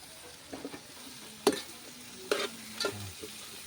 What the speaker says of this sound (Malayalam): സവാള നന്നായിട്ട് വാടി കിട്ടണം നമുക്ക്. അതിനായിട്ട് കുറച്ച് ഉപ്പിട്ട് കൊടുക്കാം.